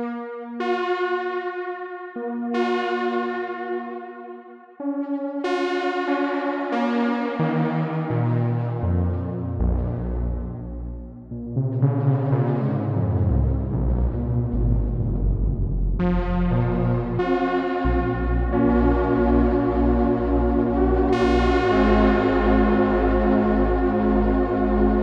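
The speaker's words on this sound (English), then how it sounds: "I'm pretty sure on the spring reverb, the modulation is like a wow and flutter" A Prophet 5 synthesizer played through a modulated spring reverb pedal, the Universal Audio Golden Reverberator, sustained chords and notes washing into wobbly, warbling reverb tails with wow-and-flutter pitch drift, loud and continuous with no talking.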